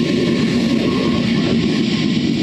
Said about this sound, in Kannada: ಟ್ರೈನ್ ಬಂತು, ತೋರಿಸಿ.